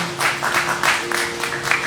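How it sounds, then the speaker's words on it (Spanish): Congregation applause in a church, steady scattered clapping of moderate loudness with a faint held tone underneath, no voices. "Démosle un aplauso al Señor"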